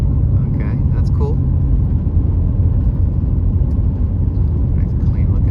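Car driving out of a camper encampment, a steady low engine and road rumble heard from inside the vehicle at close range, with someone talking over it throughout.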